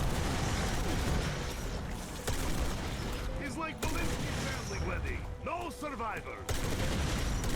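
Call of Duty Zombies gameplay with the War Machine grenade launcher firing into a horde, dense loud blasts and mechanical clatter layered over game noise and a voice talking throughout.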